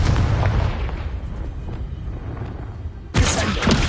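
A Confringo fire spell bursts in a Harry Potter video game: a deep rumbling boom that fades, then a second sharp blast crackles near the end, loud and close.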